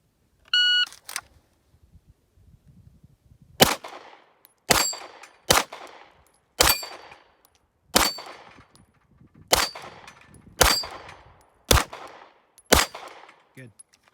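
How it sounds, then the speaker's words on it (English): One-handed pistol shots ring off steel plates on a shooting range, fired right to left: a beep starts the string, then about nine sharp close reports come at an irregular pace, each followed by a metallic clang. "He's gonna shoot right to left."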